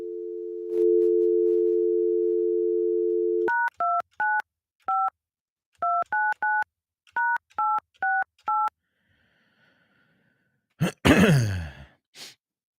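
A landline telephone call being placed: a steady dial tone, then a quick series of touch-tone keypad beeps dialing a number, a pause with faint ringing, and a loud burst of noise at the end.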